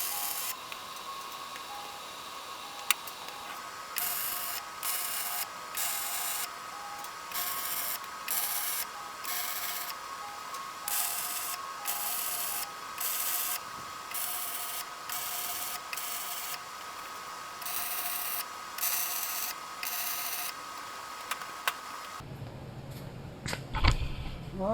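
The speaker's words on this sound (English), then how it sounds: "So let's go ahead and burn those on." A welder burns in the cross members of a utility trailer frame, giving a steady faint crackling hiss broken into repeated bursts of several seconds with short gaps between them.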